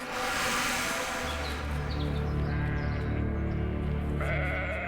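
A sheep bleats in one long, wavering cry that starts with a noisy burst and settles into a sustained, close, loud tone, with a faint buzzing of insects in the background.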